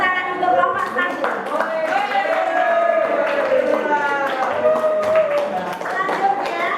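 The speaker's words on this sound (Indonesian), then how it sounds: "Tepuk tangan untuk kelompok 1." Children in a classroom clap for a group in a lively, sustained patter of small hands, with voices chattering and calling out over the clapping.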